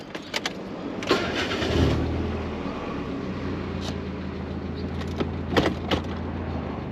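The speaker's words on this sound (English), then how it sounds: "we're gonna show you how the Mazda Miata drives" A 1992 Mazda Miata's engine cranks and catches, then settles into a steady low idle rumble close by, with a few sharp clicks and knocks around it and no talking.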